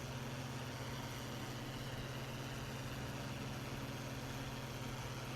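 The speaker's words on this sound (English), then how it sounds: "I thought we did have the baler running" A tractor pulling a baler in a farming video game runs with a steady, low mechanical drone and engine hum, constant and fairly quiet throughout with no talk.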